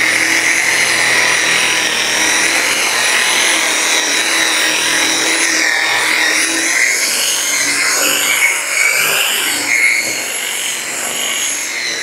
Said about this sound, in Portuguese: E aí entra com o polimento. Polimento, politriz, boina